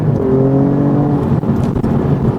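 A 510 hp Alfa Romeo Giulia Quadrifoglio, with its gearbox set to its most extreme mode, revs loudly up close. The deep, throaty engine note holds steady, broken by a couple of sharp, quick dips.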